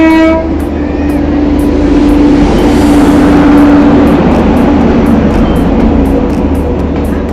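The Patliputra Express, hauled by a WAG 9 locomotive, rolls loudly and steadily nearby with a constant rumble and rhythmic clicking wheels. A long horn blast sounds over the noise.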